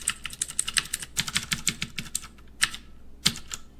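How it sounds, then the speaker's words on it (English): Rapid, crisp clicky keystrokes from a mechanical keyboard with Cherry MX Blue switches, close up and steady, with a brief pause partway through; no voices. "that very satisfying click and that noise it produces when I type on the keyboard"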